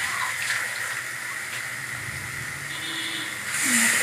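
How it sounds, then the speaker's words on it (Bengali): Water poured into spice paste frying with cumin, turmeric and chili powder along with onion, garlic and tomato sets off a steady hiss and sizzle that swells louder near the end. "মশলা যাতে না পুড়ে যায় সেই জন্য একটু জলও দিয়ে দিলাম"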